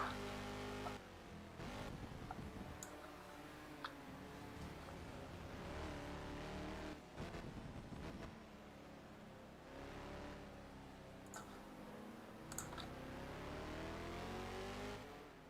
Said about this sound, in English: down Mikula in that Porsche, going around the final corner and onto the start-finish straight again for another lap